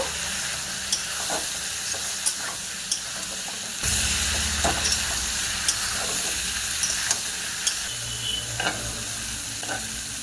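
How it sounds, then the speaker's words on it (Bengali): Fish, potato and bitter gourd sautéing in a pan, a continuous sizzle with repeated sharp clinks and scrapes of a spatula as it is stirred, close up, the frying growing louder partway through. "আবারও ঢাকনা খুলে কষে নেব"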